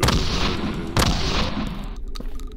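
A shotgun blasts in a zombie hospital video game, two heavy booming shots roughly a second apart with rumbling decay, loud and dense, fading into quieter game ambience.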